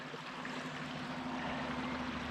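River water rushing over riffles in the Eastern Sierra, a steady broadband wash of flowing water close by, constant and unbroken with no voices.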